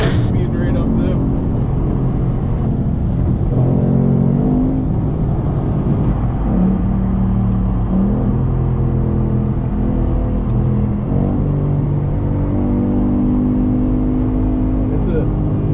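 A car accelerating hard during a street race, a loud low engine rumble that climbs and swells repeatedly while people talk excitedly over it.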